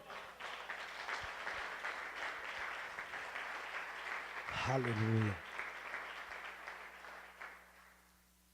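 A church congregation applauds the Lord during a Portuguese-language worship service, steady clapping filling the room throughout while a preacher's voice speaks over it and a short sung exclamation rises midway.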